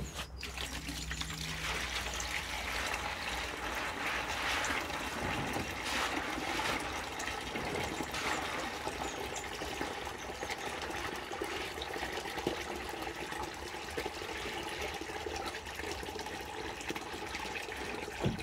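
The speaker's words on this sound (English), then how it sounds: "Let's just empty the bucket again." Water emptying from a bucket while making homemade comfrey and nettle liquid plant food, a steady rushing pour and splash that holds for the whole stretch, near and fairly loud, with no talk.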